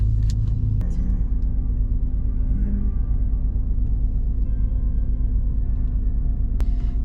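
A loud car engine idles nearby in a restaurant drive-through with a constant low rumble and hum, steady throughout without speech.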